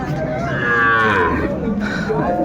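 Cow mooing at a busy rural cattle market in Bangladesh where cows with calves are sold, one loud, close, drawn-out low moo over crowd murmur and faint voices.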